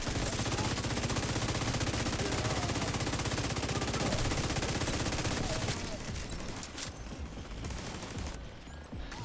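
A minigun in a video game fires a long, continuous roaring stream of rapid shots for about six seconds, then the gunfire carries on more faintly and raggedly.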